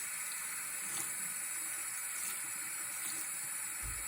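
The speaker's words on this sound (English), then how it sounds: "I'll try to rinse it out a little bit." Hot tap water running steadily while an engraved pint glass is rinsed at a sink: a constant hissing stream, fairly quiet and close, with no voices.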